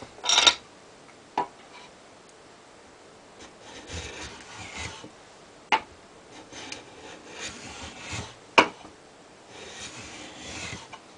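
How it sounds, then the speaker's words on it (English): Low-angle block plane taking thin with-the-grain shavings from Japanese ash (tamo), heard as a few short, sharp swishing strokes spaced a second or more apart, with quieter scraping in between. "So let's try some with the grain planing."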